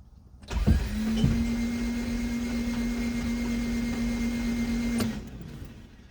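A Mopar car engine with a previously seized engine cranks over steadily for about four seconds with a droning starter whine, then cuts off abruptly.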